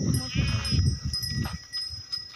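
Sheep on a farm bleat in short wavering calls, close and fairly loud, mixed with a person talking nearby and other livestock around.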